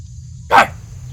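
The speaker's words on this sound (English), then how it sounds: "Your dogs start barking back at it." Dog barks once in a single loud, near burst, answering a prowling wolf at the edge of a clearing, over a low steady background hum.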